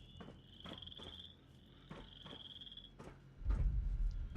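Frogs croak in a Fallout 76 camp in the video game, a rhythmic series of repeated croaks over a steady high insect-like trill, ending with a louder low rumble.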